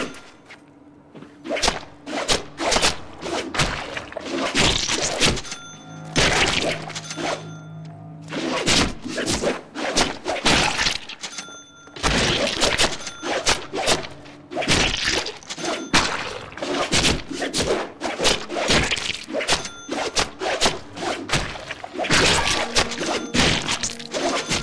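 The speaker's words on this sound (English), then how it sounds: "mix our light and heavy attacks together and see what happens" Rapid melee combo in a Deadpool video game, mixing light and heavy strikes: dense bursts of sharp whacks, thuds and swooshing hits in fast irregular rhythm, loud and close, broken by brief pauses.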